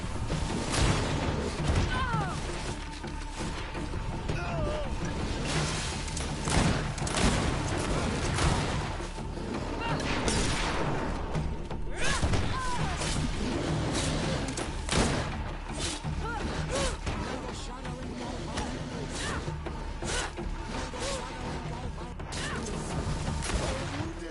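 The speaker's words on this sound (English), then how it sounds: "Watch out! Grenade!" Grenade blast and gunfire in Greedfall on hard difficulty, a long stretch of repeated crashes, thuds and shots in a busy battle, with shouted voices over the fighting.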